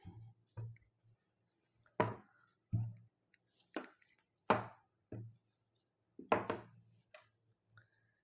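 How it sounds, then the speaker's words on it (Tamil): Scissors or a cutting tool snipping through silk skirt lining fabric for a pattu paavadai, a series of about eight sharp, separate cuts spaced irregularly, close and clear with no talking. "அப்படியே இந்த பக்கம் திருப்பிட்டு லைனிங்கில் பேக்கு கட் பண்ணிக்கலாம்."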